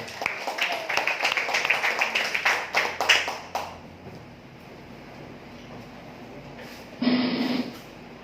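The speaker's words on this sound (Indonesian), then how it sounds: "Beri tepuk tangan buat ibu semua." Clapping from a seated audience at a marketing plan presentation, a burst of hand claps in the first few seconds that thins out and stops, followed by quiet room tone and a brief noisy thump near the end.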